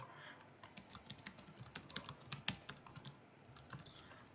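Typing on a computer keyboard while working in Microsoft Word: a quick, uneven run of soft key clicks, close and fairly quiet, with no talking.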